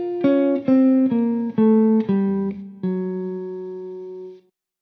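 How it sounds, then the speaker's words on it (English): An eight-note electric guitar line run down the A altered scale for blues, notes picked in a steady even rhythm with the final one sustained and decaying, played alone. "Or if I want to create a longer line, if I play 8 notes, it's going to sound like this."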